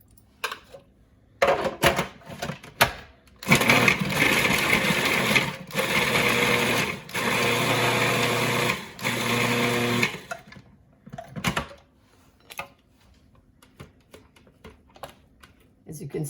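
Red onions are crushed for masala in short bursts of a loud, grinding kitchen-appliance whir, several separate pulses with pauses between, alongside quieter handling clatter.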